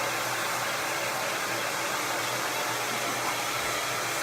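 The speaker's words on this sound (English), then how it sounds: "and then you can pick up your dryer." Hair dryer blowing steadily and close by during a professional salon blow-dry with a round brush, a continuous broadband whoosh with no pauses and no voices.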